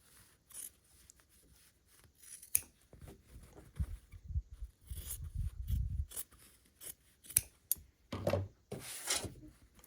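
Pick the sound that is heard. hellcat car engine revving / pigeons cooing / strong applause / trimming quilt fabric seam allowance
trimming quilt fabric seam allowance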